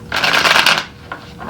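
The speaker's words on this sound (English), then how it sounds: "Shuffle one more time." A deck of tarot cards is shuffled up close, a dense riffling rush lasting under a second, followed by a couple of lighter card flicks.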